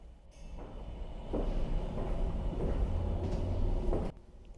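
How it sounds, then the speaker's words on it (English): A steep funicular railway train at Pfaffenthal-Kirchberg rumbles and whirs as it gets moving, a steady mechanical drone that swells briefly then cuts off, with no talking. "I only used this funicular railway a couple of times"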